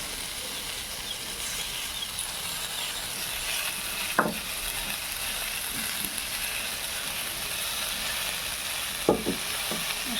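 Ground spice paste frying in a hot pan gives a steady, loud sizzle throughout, with a couple of brief scraping stir sounds and no talking.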